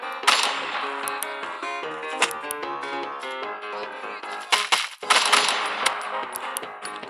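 Gunshots in the shooter Bullet Force ring out in bursts with metallic clinks and ringing tones over game sounds, loud and close, pausing briefly midway before another cluster of shots.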